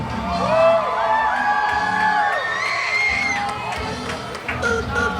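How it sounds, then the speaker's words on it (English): A parade crowd at a Fourth of July parade in Modesto screams, whoops and cheers continuously and loudly, with children's shrieks rising above the mass of voices. "Everybody scream!"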